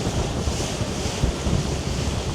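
Cold winter wind buffets the microphone aboard a moving Scimitar 1010 boat, a steady broadband rush with water and hull noise mixed in and no voices.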